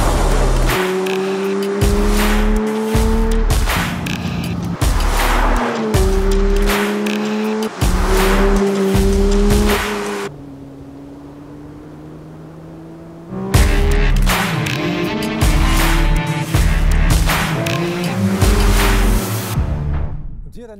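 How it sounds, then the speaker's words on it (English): Porsche 911 GT3 with touring package driving on country roads, engine revving hard in repeated rising bursts with tire squeal, a quieter lull mid-way, then more loud acceleration. "And here the new 911 GT3 with touring package."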